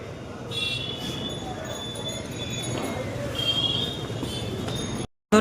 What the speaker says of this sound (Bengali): এখন আমরা এই যে পাঁশকুড়াতে লোকাল ট্রেনে উঠে গেছি এখন হাওড়ার দিকে যাচ্ছি ট্রেন আসছে একটা